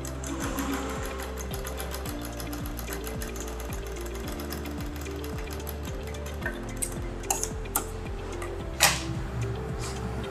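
A sewing machine stitches a kurti along buckram, with rapid rhythmic needle clatter in short runs that start and stop, plus a few sharp clicks near the end.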